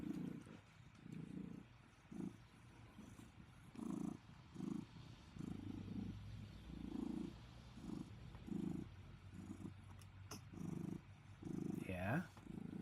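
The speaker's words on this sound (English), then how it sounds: "She has a very loud purr." A pet cat named Zeldy purring loudly up close in a rhythmic in-and-out pattern, steady through the whole stretch, with a faint background hum.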